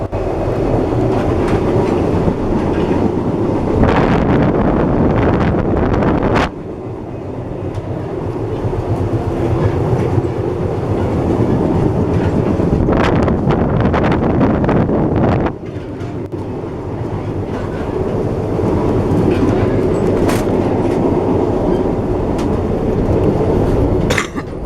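A passenger train rides on rails at normal speed, heard from on board as a loud, continuous rumble with rhythmic clickety-clack and wind buffeting across the whole stretch.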